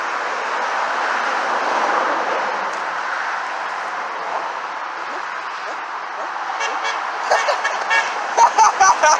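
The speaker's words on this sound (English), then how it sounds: "I'm gonna see if I can get the RV to honk." An RV sounds its horn on a road among passing trucks, with a long steady hum of traffic followed by several short, loud toots near the end.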